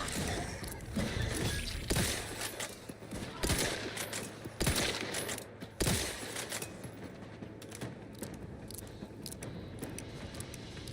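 Video game gunfire rattles in repeated bursts of sharp shots with metallic clicks and mechanical clatter, moderately loud against a busy background noise across about ten seconds.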